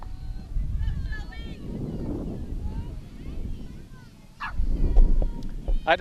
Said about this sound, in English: Wind's picking up again.